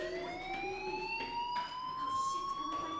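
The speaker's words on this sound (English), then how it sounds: "do you hear that fire alarm?" A fire alarm rings in the Life is Strange video game, a continuous electronic wail with slowly rising pitch, loud and steady throughout.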